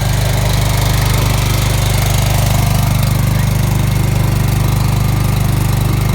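A portable electric generator runs steadily in -30 degree cold, a loud continuous engine drone with a low throbbing hum that stays constant throughout with no voices.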